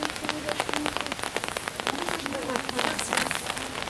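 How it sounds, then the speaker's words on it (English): Rain patters densely on a hard surface nearby, a steady crackle of drops with no talking. "It's starting to rain."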